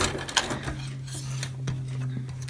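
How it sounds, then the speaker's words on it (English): A sewing machine stitches an ID window pocket onto a leather wallet, giving a close mechanical clatter of needle strikes and gear ticks in uneven bursts over a steady low motor hum. "go ahead and sew this ID window pocket in place"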